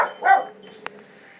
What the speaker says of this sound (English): that would be Vicky who's barking